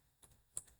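A few soft keystrokes tap on a computer keyboard, two or three quiet clicks spaced apart in a still room.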